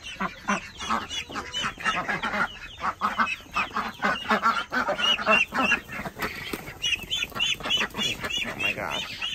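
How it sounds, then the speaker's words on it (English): Several small ducklings and young fowl honking and quacking in a busy, overlapping chorus close by, steady and continuous. "Come on, little ducks."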